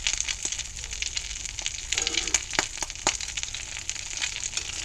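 Patty frying in a cast iron pan inside a greenhouse, a steady broadband sizzle with occasional sharper crackles and pops, close and continuous, with no voices.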